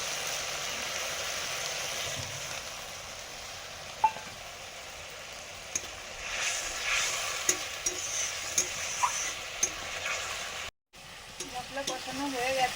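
Spice paste of ground whole garam masala and cumin frying and being stirred in a pan, a steady close sizzle with scattered scrapes and light clinks of the spoon against the pan, no talking.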